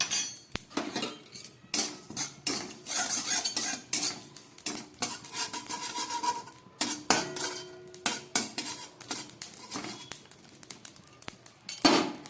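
A metal spoon scrapes and clinks against a pan in irregular stirring strokes, close up, with a light sizzle underneath of cumin seeds and dried red chillies frying.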